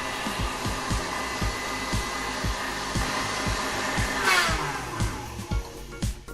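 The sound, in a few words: electric mixer whipping egg whites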